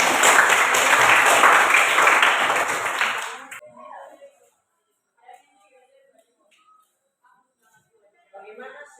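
Classroom applause from students during a lesson, a loud burst of dense clapping for about three and a half seconds that stops abruptly, followed by near-silence with faint scattered voices.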